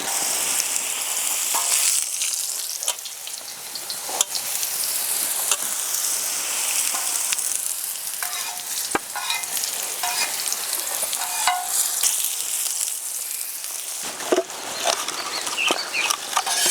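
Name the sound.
brinjal frying in oil on a tava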